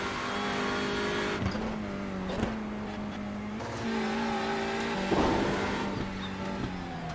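A race car engine in a sim racing video game howls through a hot lap, its pitch rising and dropping through gear changes and corners, loud and close with short revving bursts and no voices.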